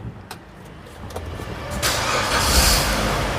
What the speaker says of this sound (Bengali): এই ইঞ্জিনের সাউন্ডটা দেখছেন কি সুন্দর